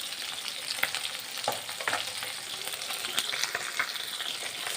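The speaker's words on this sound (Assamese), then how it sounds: "কণীখিনি ফ্ৰাই কৰিম।" Common carp roe fries in a pan with a steady, close crackling sizzle and small spits and pops while it is stirred. No one speaks.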